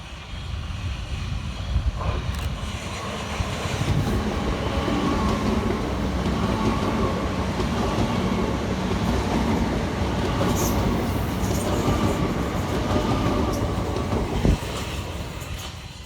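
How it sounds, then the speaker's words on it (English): Two coupled Southern Class 387 electric trains pass through a South London station, a loud, sustained rolling roar with rail clatter and rumble that holds steady for the whole stretch, close by, with no voices. "Next passing through the station is 387206 and 387119, working 1 Foxtrot 37 for Southern from London Victoria"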